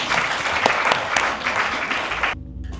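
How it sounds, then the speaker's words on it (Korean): An audience claps at a Korean peace and reunification symposium, with a steady dense wash of applause for about two seconds that then cuts off abruptly, leaving a quiet hum. "다시 한번 뜨거운 박수로 부탁합니다"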